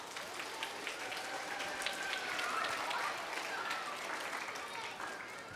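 Audience applause at a kids camp rises steadily into a dense, continuous patter of clapping as a performer comes out, with voices faintly mixed in.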